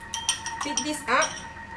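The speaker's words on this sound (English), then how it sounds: "So I'm beating 1 egg only." A fork or whisk clinks quickly against a bowl while one egg is beaten, a short burst of close metallic taps and scrapes, with a voice speaking over part of it.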